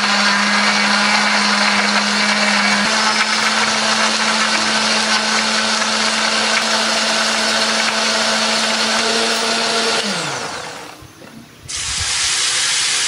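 A blender grinding candlenuts, shallots and garlic with a little water, a loud steady whir that runs unbroken for about ten seconds, then drops in pitch and briefly stops before the motor starts again.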